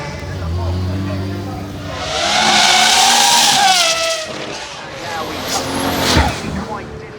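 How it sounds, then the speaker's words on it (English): A Nissan 350Z V6 race car with a French Sadev six-speed flat-shift sequential gearbox runs at the Goodwood Festival of Speed. The engine revs loudly and sweeps up through the gears, with tyre squeal near the end and a commentator talking over it. "It's running a Nissan 350Z V6 to a French Sadev 6-speed flat shift with a flat shift."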